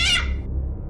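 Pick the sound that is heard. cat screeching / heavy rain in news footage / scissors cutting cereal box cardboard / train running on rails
cat screeching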